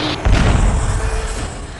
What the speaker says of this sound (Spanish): El impacto produce una explosión y el avión pequeño estalla en llamas